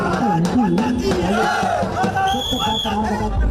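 Thousands of devotees in a street procession with saffron flags chant Jai Shri Ram slogans, a loud, continuous wall of voices with rising and falling chanted tones and a general crowd roar beneath.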